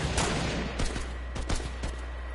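Rapid bursts of turret gunfire in the video game Fortnite, several sharp cracking shots in quick succession over a steady background hum, fairly close and loud.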